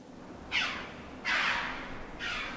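An Alpine chough gives three loud, harsh calls in a mountain valley, each one trailing off into a long reverberant tail off the valley walls.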